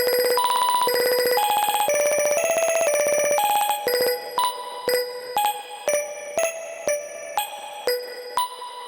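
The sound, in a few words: Midicake ARP sequencer re-triggering notes as a stutter effect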